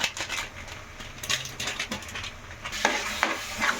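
Prawn curry stirred in a pan with chilli powder, turmeric and garam masala, giving a steady close scraping and stirring over a soft sizzle, with sharper utensil strokes near the end.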